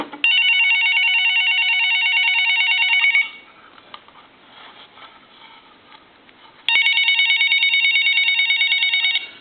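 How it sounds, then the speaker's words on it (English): An old telephone converted into a Chinese dragon design rings with a loud, continuous electronic trill. It sounds for about three seconds, pauses for a few seconds of near quiet, then rings again, with no voices. "I'm going to go ahead and ring the telephone."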